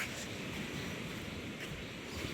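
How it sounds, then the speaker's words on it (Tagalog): Small sea waves washing onto a beach, a steady broadband wash with wind rumble, fairly faint and continuous, with no talk. "Medyo lumit na ang alon natin guys."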